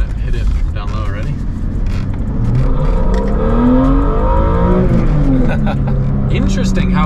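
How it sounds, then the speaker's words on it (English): A BMW engine revs hard with prominent induction noise and a quiet exhaust, rising and falling in pitch through a couple of pulls, loud and close, with people talking over it. "I'm actually really stoked that it has such a quiet exhaust because I can actually hear the induction noise."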